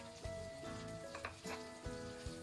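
Green and red pepper pieces are stir-fried in a little oil with aromatics over low heat in a wok, a faint sizzle with soft scraping and tossing knocks behind quiet background music.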